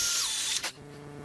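A power drill whines steadily as it bores a hole for a reverse pop rivet fastening metal to wood. After about half a second of high-pitched spinning it cuts off abruptly, leaving a quiet hum.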